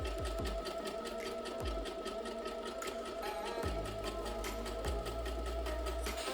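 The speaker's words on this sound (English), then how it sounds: "And sew all the way around." A sewing machine runs steadily, stitching the seam of a pencil skirt, its rapid needle chatter close and continuous with a few low thumps mixed in.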